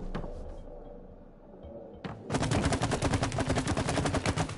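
Rapid gunfire in the video game It Takes Two, aimed at a lid overhead: a quiet stretch with a short burst, then a loud, sustained stream of fast shots running to the end.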